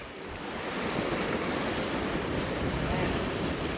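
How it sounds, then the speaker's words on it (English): Ocean waves breaking against shoreline rocks at a fishing spot, a steady loud roar of surf and wash with wind buffeting the microphone, continuous throughout. "the waves are pushing this way versus away like they normally are"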